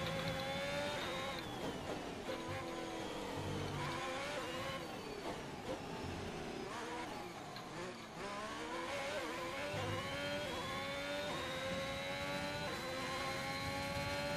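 Racing-car engine in a video game, steady high-pitched whine rising and falling through gear changes and revs, loud and continuous for the whole stretch with no talk.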